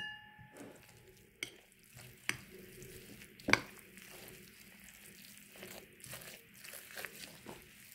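Two cracked eggs stirred by hand into a seasoned chicken filling for mhancha, soft wet stirring and clicking scrapes in a bowl with a few sharper knocks, close and fairly quiet.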